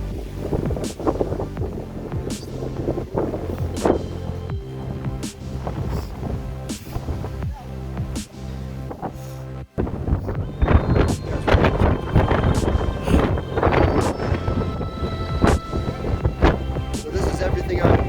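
Strong gusting wind buffets the microphone during a September solo climb of Longs Peak near the Keyhole, a harsh, continuous rumbling roar with bursts of louder gusts, and a voice talks intermittently underneath.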